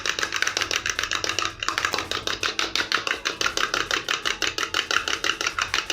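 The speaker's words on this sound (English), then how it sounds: "I'm just going to crack my egg and beat it" An egg is beaten by hand for tea scones, a fast, even run of sharp clicking strokes close by, broken by one brief pause before the rhythm resumes.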